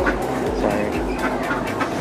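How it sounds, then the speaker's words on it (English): Ducks and geese at a fair keep up a steady run of quacks and honks over a busy clattering background, with a voice briefly audible. "They're ducks and geese and... Yeah. Oh. Ducks."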